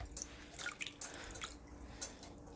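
Hands being wet with water before shaping minced meat for seekh kebabs onto chopsticks in a home kitchen: soft, faint drips and light wet squishes spread through a quiet stretch with no talking.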